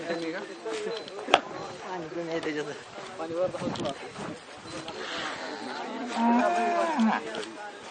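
Cows low at a drought fodder camp, drawn-out moos mixed with nearby people talking, with a sharp knock near the start and busy livestock surroundings throughout.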